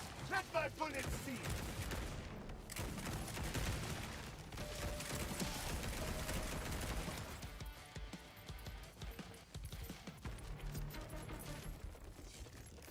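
Bursts of gunfire from the video game character C4SH mix with clanking mechanisms and game effects, dense and busy throughout, with voices heard at times.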